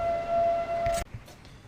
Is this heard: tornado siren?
yes